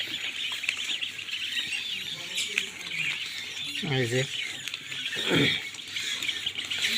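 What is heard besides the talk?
purple swamphen (kalim) chicks chirping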